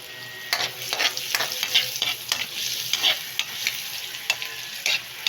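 Onions sautéing in butter in a pan for buttered shrimp, a close crackling sizzle punctuated by repeated spatula scrapes and stirring knocks, no speech.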